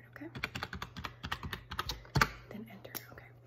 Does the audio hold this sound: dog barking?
no